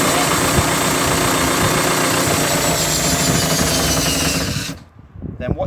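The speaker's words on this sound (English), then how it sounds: "I'm going to use the drill to engage the motor mover against the wheels" A loud, steady mechanical whir of a power drill engaging a caravan motor mover against the wheels of a 2009 Lunar Ultima SB caravan for several seconds, then cutting out abruptly, leaving quiet clicks and handling noise.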